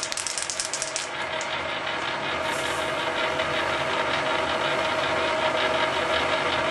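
Gears and a chain loop turning on a machine, a loud continuous mechanical whir. It opens with rapid ratcheting clicks for about two seconds, then settles into a steady grinding hum.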